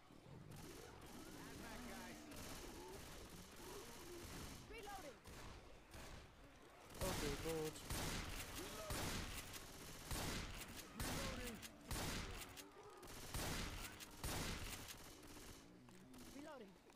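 Rapid bursts of gunfire from the Left 4 Dead 2 video game, dense volleys of shots repeating loudly through the whole stretch, with players talking over the shooting.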